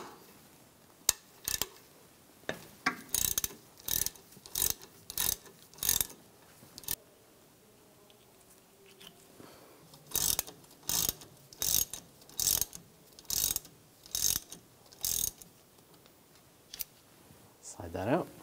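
Ratchet fitted with a 7mm hex socket backing out the brake caliper pins on a 2001-2006 BMW 325Xi, heard as close, rapid clicking bursts repeated in quick sets separated by short pauses.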